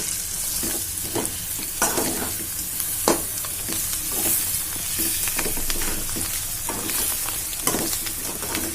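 Chicken fry sizzling in a pan while being stirred, steady close hiss broken by regular scraping and clattering strokes of the ladle, no talking.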